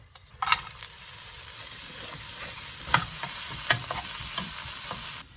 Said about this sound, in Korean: 계란 삶는 동안 양배추랑 당근 볶아줄게요